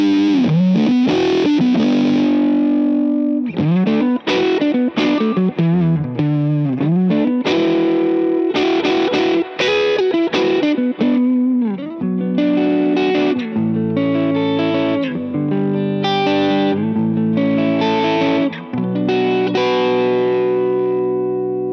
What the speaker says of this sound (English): Sounds really fantastic. It's like a boosted, more trebly, beautiful high end that a lot of really good fuzzes do.